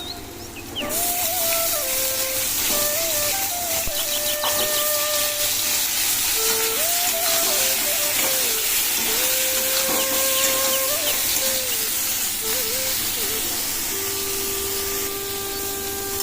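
Potatoes and eggplant frying in oil in a pan: a loud, steady hiss of sizzling oil runs throughout, with soft whistling tones drifting over it and no talking.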